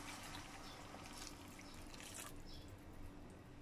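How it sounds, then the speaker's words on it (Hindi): Water from a jug poured into kadhi in a cooking pot, a short, faint continuous trickle and splash lasting a few seconds, with no talking. "अब इसमें हम 1/2 जग पानी डाल देंगे।"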